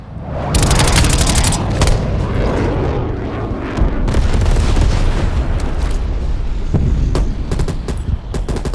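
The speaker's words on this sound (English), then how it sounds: "Enemy napalm strike" Napalm strike explosions in the video game Call of Duty Cold War, a loud, dense barrage of blasts and crackling fire rolling on continuously with repeated sharp bursts throughout.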